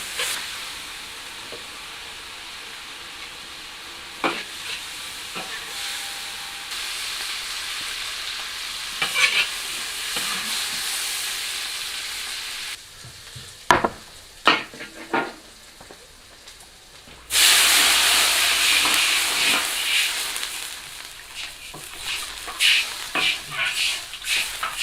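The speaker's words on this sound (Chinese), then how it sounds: "改成大火， 翻炒出锅。" Cured Sichuan-style pork stir-fried with erjingtiao chilies in a wok over high heat: a steady loud sizzle with scraping spatula strokes and clinks, a brief lull, then a sudden surge of hissing steam that continues to the end.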